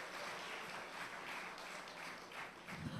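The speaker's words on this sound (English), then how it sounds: "another big round of applause for the National Theatre Arts Company of Trinidad" A crowd applauds a theatre company at a Caribbean arts festival event, with steady, faint clapping heard from a distance for a few seconds.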